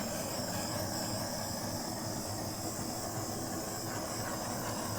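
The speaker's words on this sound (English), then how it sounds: "Let's torch it." Torch flame hissing over bottle paint containing silicone, a loud, steady, broadband roar that stays constant from start to finish with no pauses.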